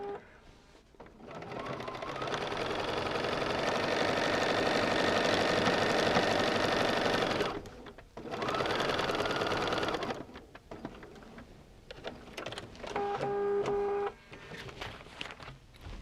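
Electric sewing machine stitching along a paper-pieced stained glass quilt line, a loud, close, continuous whirring run in two long bursts, followed by softer intermittent handling and short stitches.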